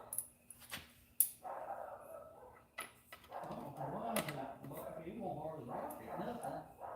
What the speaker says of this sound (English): Bark, dog, bark.